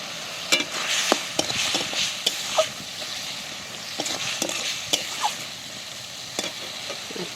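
Pointed gourd pieces are stirred into onion and spice masala in a pan, a soft continuous sizzle broken by repeated scraping clicks of a spatula, close by with no voices.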